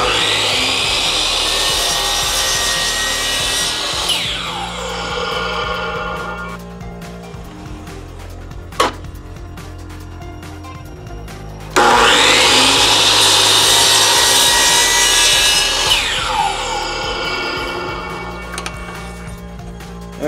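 A power saw with its blade tilted to 30 degrees cuts through wood for a shield build, two long loud whining cuts separated by a pause with a sharp click, no talking.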